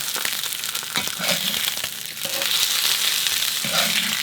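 A ribeye steak searing in a hot pan, loud continuous sizzling up close with crackling spits, no voices.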